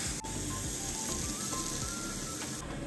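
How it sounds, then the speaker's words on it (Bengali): Sweet boondi, small balls of gram-flour batter, frying in hot oil, giving a steady close sizzle that runs unbroken through the short stretch with faint scraping underneath. "এইভাবে লাল বোঁদেগুলো আমরা ভেজে আস্তে আস্তে আস্তে আস্তে সব কটা বোঁদে তুলে নেব।"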